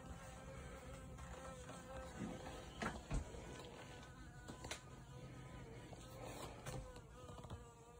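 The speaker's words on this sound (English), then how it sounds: "So you can hear a bee." Honey bees from a colony being removed from a mobile home trailer buzz softly and continuously, a faint insect hum that swells briefly at moments, with no talking.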